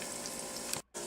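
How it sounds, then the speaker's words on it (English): Potatoes frying in a pan give a steady, loud sizzle that runs continuously, then cuts out abruptly for a moment before resuming. "while the potatoes are frying"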